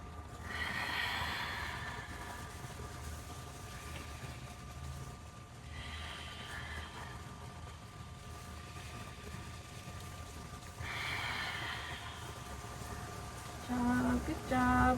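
Breath pushed out through the side of the mouth during a yoga session, three or four long soft airy exhales rising and fading at slow intervals, with a faint steady hum beneath.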